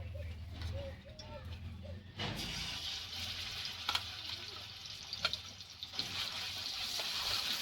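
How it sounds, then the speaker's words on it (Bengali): Grated taro leaf paste hits hot mustard oil tempered with nigella seeds, setting off a steady, moderately loud sizzle with occasional pops and stirring, while a voice talks over it. "এবার আমি পাতা বাটাটা দিয়ে দেবো"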